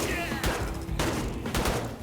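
Rapid video-game gunfire in Tablet Tyrant as zombies are shot, with several dense bursts of shots following one another closely and loudly over about two seconds.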